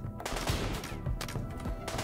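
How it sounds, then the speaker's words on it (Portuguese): Gunfire in the colony game RimWorld: a quick series of sharp, punchy shots in uneven bursts, fairly loud and close, with no talk over them. "Dois tiros já, Ana."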